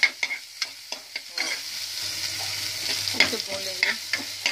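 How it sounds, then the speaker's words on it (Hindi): Tadka for dal sizzles in hot oil with green chillies, a steady frying hiss broken by sharp stirring clicks of a spoon against the pan, close and moderately loud with no talking. "मैं लगा रही हूँ तड़का।"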